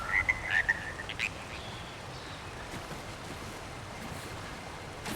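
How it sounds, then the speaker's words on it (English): Frogs croaking in the video game Elder Scrolls Online, a few short chirpy croaks near the start that give way to a soft, steady watery ambience, with no talking. "Frogs. My beautiful frogs. They've come home."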